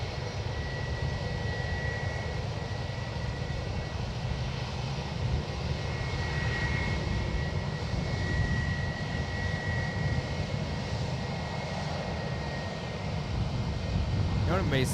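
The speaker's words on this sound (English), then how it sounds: "Got this Airbus shark finning behind the blast fence here, taxiing out to the 28 for departure." An Airbus jet taxis out for departure at San Francisco International Airport, its engines giving a steady, distant roar with a faint whine behind a blast fence.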